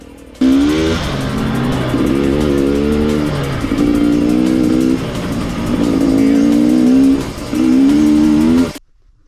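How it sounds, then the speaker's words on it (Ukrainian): A KTM EXC 300 enduro motorcycle engine revs repeatedly in strained surges on Carpathian mountain terrain, rising and dipping in pitch as if bogging down, close and loud, then cuts off abruptly. "ти наче те газуєш, але зупиняєшся і нікуди не їдеш."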